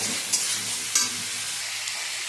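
Boiled cauliflower and potatoes stirred into spices frying in a pan, a bright continuous sizzle with a couple of quick scraping strokes, close up and alone.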